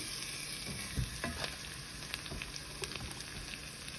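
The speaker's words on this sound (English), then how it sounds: "I'm going to add in my cream cheese to the onion" Cream cheese meets sizzling onion in a hot pan, a steady crackling fry with scattered stirring scrapes and soft clunks throughout.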